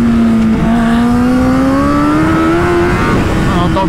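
A Kawasaki ZX-10R superbike screams at high pitch on a race track, its tone climbing steadily as it accelerates, with a brief dip early on and a shift near the end.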